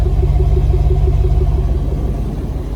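A 2020 Ram 2500 Power Wagon with the 6.4 Hemi idles with a deep, aggressive exhaust rumble, loud and close with a steady low throb and no talk.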